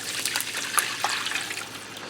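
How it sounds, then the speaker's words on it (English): Water pours steadily into a skillet of browned, drained ground beef, a continuous close trickle and splash with a few brighter spatters, no talking. "I'm going to add in 2 1/4 cups of water."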